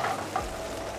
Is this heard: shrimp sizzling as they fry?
yes